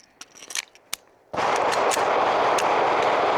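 Loud, sustained burst of rapid gunfire from a Springfield Echelon 4.0C pistol at a range, beginning after a few faint clicks and running steadily to the end.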